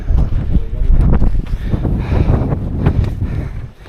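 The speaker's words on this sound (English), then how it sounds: "It's windy and it's high up." Strong wind on a high hill in the Peak District buffets the microphone in loud, gusty rumbles, rising and falling over a few seconds with no voices.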